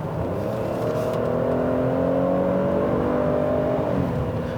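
V6 engine of a 2018 Buick LaCrosse Avenir accelerating through corners, a steady loud whirring drone with rising and falling tones, heard from inside the car without talk.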